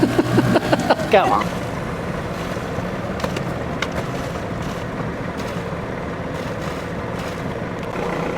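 Outboard engine on a small cruising boat in Prideaux Haven, Desolation Sound, catching on the first pull and settling into a steady running drone, with a brief spoken remark at the start.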